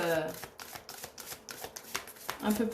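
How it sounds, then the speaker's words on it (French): Tarot cards are laid down one after another with soft, quick papery taps and slides, close and quiet, while someone talks over them. "je vais recouvrir les cartes négative, hein, pour voir un peu plus"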